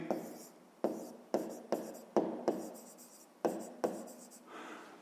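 Pen on paper during a fifth-grade maths exercise: a run of short scratchy strokes, about nine separate bursts, close and fairly quiet, with no voice over them.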